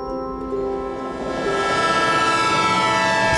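A train passes a railway crossing, its steady rolling roar building in loudness over a few seconds, with sustained horn-like tones ringing above the rumble and no voices.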